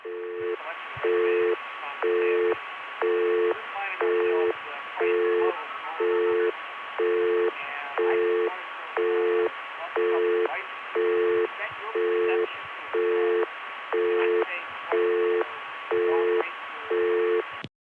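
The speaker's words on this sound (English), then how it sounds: "Anytime you leave a phone off the hook in this type of PBX, everything that's said in the room gets broadcast over the busy signal" A busy signal on a Bell System crossbar PBX line, likely the 770, pulses steadily in even on-off beeps for the whole stretch, loud and close, with faint room sounds carried underneath.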